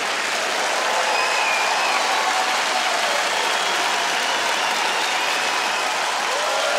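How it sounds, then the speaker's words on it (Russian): Stormy applause from a large comedy-show audience in Odesa, a loud, dense, unbroken roar of clapping that holds steady from start to finish with no voice over it. "Под бурные аплодисменты потрясающего теплого города Одесса."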